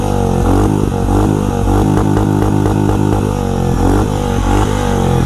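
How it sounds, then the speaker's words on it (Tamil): A Honda H'ness CB 350 motorcycle exhaust revs loudly and close by, a deep throbbing thump with repeated blips of the throttle and no talk. "எக்ஸாஸ்ட்டு பார்த்தீங்களா, வேறு லெவலில் இருக்குங்க எக்ஸாஸ்ட்டு சவுண்டு."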